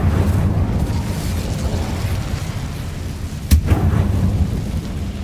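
Incendio fire spell cast in the Hogwarts Legacy video game, a sudden fiery burst that stands out over a steady rumbling game soundscape, with a second smaller pop just after.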